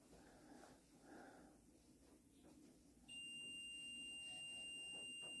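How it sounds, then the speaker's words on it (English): A REM pod paranormal investigation device beeping during a nighttime investigation at an Airbnb in Jeannette, Pennsylvania; a steady, high, continuous electronic tone switches on abruptly partway through and holds over a faint, quiet room. "That beeping you're hearing, that's our REM pod."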